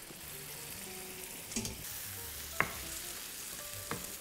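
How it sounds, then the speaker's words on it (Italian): Pasta tipped into a tomato and 'nduja sauce and stirred in a pan, a steady soft sizzle with a few sharp clinks of a utensil against the pan, no talking. "E vado a mettere la pasta nel sugo."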